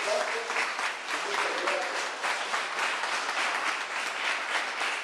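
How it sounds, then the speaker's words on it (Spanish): An audience at a municipal event gives a strong round of applause, a continuous, fairly even crowd clapping with a few voices mixed in. "un fuerte aplauso para los"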